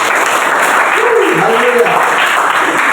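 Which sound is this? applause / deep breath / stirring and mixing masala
applause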